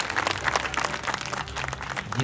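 An audience claps at a Gayatri Mahayajna wedding-day ceremony, a dense, steady patter of many hands close by, sustained for a couple of seconds without talk.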